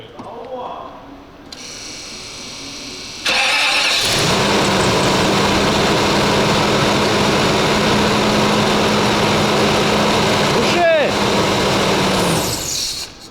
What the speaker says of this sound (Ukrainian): Ну стартерок працює